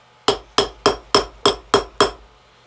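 A big pound hammer striking hot metal on an anvil while forging a grappling hook, seven loud, evenly spaced ringing blows about a third of a second apart, each decaying quickly, with no talk.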